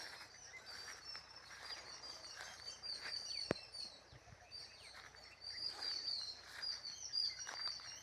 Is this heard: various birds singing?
yes